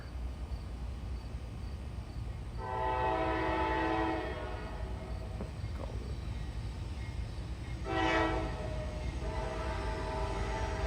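Train horn from a passing AC44 freight locomotive at an Elkhart railfanning spot, two moderately loud blasts a few seconds apart over a steady rumble of rolling cars and faint insect chirping.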